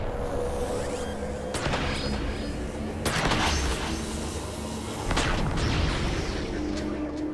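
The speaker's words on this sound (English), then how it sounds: "He is, of course, equipped with his standard plasma cannon." A plasma cannon fires in Transformers: War for Cybertron, three heavy blasts spaced a second or two apart over a dense rumbling game soundscape, with someone talking over it.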